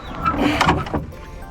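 Rear engine lid of a Subaru-swapped VW T2 Westfalia bus being unlatched and swung open: a short mechanical click, a creaking metallic lift and a soft clunk, close and fairly loud, with no talking.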